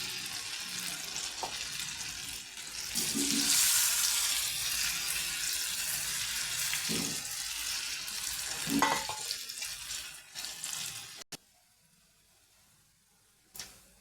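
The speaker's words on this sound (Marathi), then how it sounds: "हे सगळं चांगलं भाजून घ्यायचं एकदम करून घ्यायचं" Ragi flour and ghee roasting in a pan for nachni barfi, giving a steady close sizzle with occasional stirring scrapes, stopping abruptly near the end before a brief final clatter.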